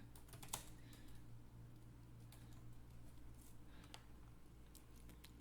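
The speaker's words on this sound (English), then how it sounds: "Type in a little bit of body text." Faint, quick keystrokes tap on a computer keyboard, a light, irregular clicking that runs steadily throughout over a low steady hum, with no voices.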